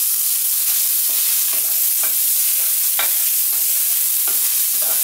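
Onions fry over high heat in a pan with little oil, giving a steady sizzle punctuated by regular scraping strokes of a spatula, roughly one each half second.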